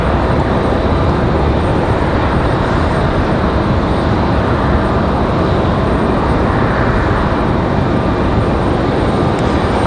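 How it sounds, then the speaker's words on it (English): Boeing 757 jet departing Raleigh-Durham International Airport at night, a loud, continuous broadband engine roar holding steady throughout with no talking. "that 757 rolling out of here"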